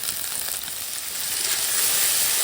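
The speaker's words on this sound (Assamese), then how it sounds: "পিঁয়াজখিনি দি পেলাই মই অলপ ফ্ৰাই হ'বলৈ দিম" A steady, loud hiss of onions, carrots and cabbage frying in a pan, the sizzle swelling slightly toward the end with no voices.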